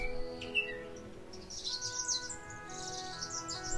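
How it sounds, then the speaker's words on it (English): Several birds chirp and sing at moderate distance, with bright high tweets and trills over a faint, steady outdoor background. "Birds are everywhere, all around us, always chirping, tweeting, singing their songs."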